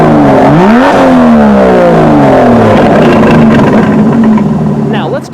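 Loud, aggressive Aston Martin DB11 exhaust in Sport Plus mode revs and climbs through quick gear shifts, the raspy engine note rising and falling close by.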